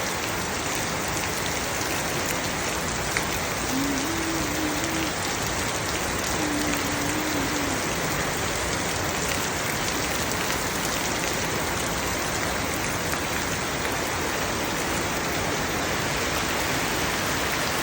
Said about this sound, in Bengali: দেখেন আজকে আবার বৃষ্টি আসছে